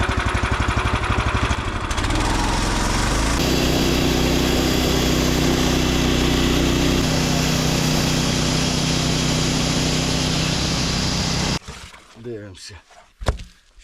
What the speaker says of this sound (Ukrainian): Прорізаю зараз одну різь, яка у вас є пила, як поставлена, так і ріжу.